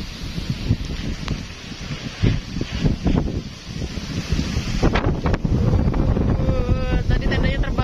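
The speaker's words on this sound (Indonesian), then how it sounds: "Sengsara banget bikin tenda di angin yang besar kayak gini, badai." Strong windstorm buffeting a campsite, with heavy, continuous gusting roar and rumbling microphone wind noise, and flapping and rustling throughout.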